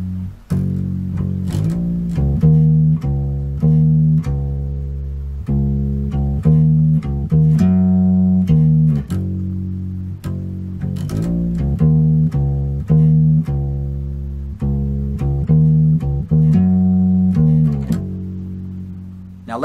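Bass guitar playing a funky 1968 bass line, a steady syncopated pattern of plucked, punchy low notes repeating throughout with no talking.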